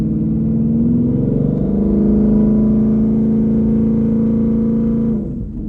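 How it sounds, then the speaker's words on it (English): A twin-turbo 2020 GT500 with a TH400 transmission swap drives along with a loud, steady engine drone that rises slightly and then eases off at the end. Heard from inside the car, with no talking. "I don't know how loud the car is when I'm just driving around"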